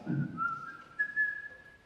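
A person whistles an imitation of a forest bird call, one sustained clear tone that steps slightly upward partway through, heard alone and fairly close.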